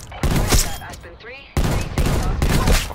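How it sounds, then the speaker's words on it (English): Hand cannon gunfire in Call of Duty: Black Ops Cold War rings out as heavy, booming shots in loud bursts with brief gaps, amid game noise. "I'm gonna use my hand cannon here."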